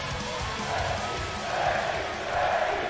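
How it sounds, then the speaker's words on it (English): Simulated arena crowd in the WWE 2K20 wrestling video game during a Becky Lynch versus Hikaru Shida match, a steady, loud crowd roar with cheering swelling in waves. "The crowd on the side of Becky Lynch."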